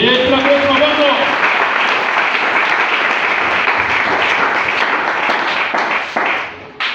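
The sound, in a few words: congregation applauding in church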